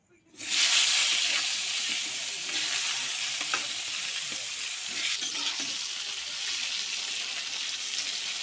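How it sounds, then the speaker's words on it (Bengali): Eggplant hits hot oil that was already used to fry fish. A sudden burst of sizzling rises to a strong, continuous crackling hiss and holds steady throughout. "একটু হালকা ভেজে নেব"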